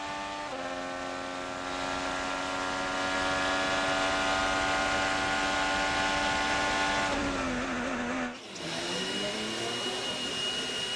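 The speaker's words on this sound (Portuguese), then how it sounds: "o Vitor Júnior, bora pro treino classificatório? Bora então na caroninha com a McLaren." McLaren IndyCar at full throttle during Road America qualifying, an onboard engine note climbing steadily through gears, a sharp drop and dip near the end as it brakes and downshifts, then winding back up, loud and continuous with no talk.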